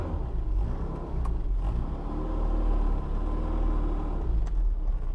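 A 1979 Mini Special with a 1430cc engine and a straight-cut close-ratio gearbox drives along in a steady, low in-car rumble. The engine note rises and eases slightly, and no one talks.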